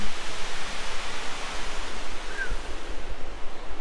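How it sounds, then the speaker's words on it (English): Hot spring water at Gross Barmen resort pours and rushes in a continuous broadband hiss, like a steady gush close by, with no voices. "there's the hot water behind you."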